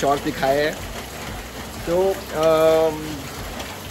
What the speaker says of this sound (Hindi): बहुत तेज़ बारिश हो रही है जिसकी वजह से कोई भी एक्टिविटी अभी चल नहीं रही है